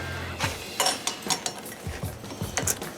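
An impact wrench working on bolts of an electric Razor go-kart during a restore, firing in short, close, repeated rattling bursts with metallic clanks between them.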